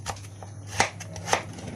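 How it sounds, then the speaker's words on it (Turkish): A knife cuts two large potatoes into finger-shaped pieces, giving a few sharp, quiet knocks on the cutting board at uneven intervals against a low background hum. "parmak şeklinde bu şekilde doğrayın"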